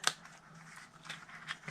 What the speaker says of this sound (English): we're going to go to the other side and snip off this square and wedge the one underneath